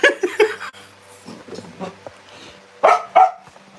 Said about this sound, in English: Because he barks a lot.